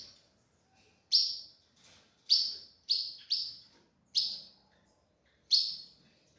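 Azulão (blue grosbeak) chicks give sharp, loud, close chirps, about seven short calls spaced irregularly over a quiet background, with no voices.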